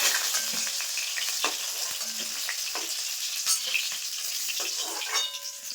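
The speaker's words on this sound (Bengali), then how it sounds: "একইভাবে যে বাকি মাছগুলো আছে ভেজে নেব।" Fish pieces fry lightly in oil for a Bengali fish curry, a continuous bright sizzle close by, dotted with sharp crackles and pops.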